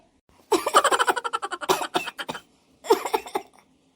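A fit of rapid, rhythmic bursts from one person, like a coughing spell, followed after a brief pause by a second shorter burst.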